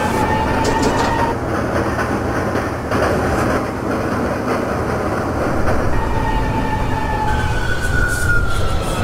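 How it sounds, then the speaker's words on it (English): A simulated R179 subway train on the Brooklyn-bound J skip-stop route rumbles steadily along the track near Cypress Hill, with continuous loud running noise, wheel clatter and faint high squeals throughout. "This is a Brooklyn-bound J Skip-Stop train."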